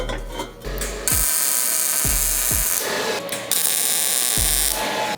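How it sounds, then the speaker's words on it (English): A support arm is being welded onto a rear bumper for a fourth-generation Toyota 4Runner. The close welder gives off two long, harsh crackling buzzes separated by short pauses, with a few dull thuds between them. "now we're gonna weld the support arm in place."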